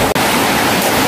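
Typhoon Odette floodwater rushes into the back of a house in a steady, loud, close-up wash of water, broken by one brief dip in the noise.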